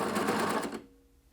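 A coverstitch sewing machine runs a few quick stitches while sewing shirring, making a steady, close mechanical whir that stops abruptly partway through, leaving near-silence.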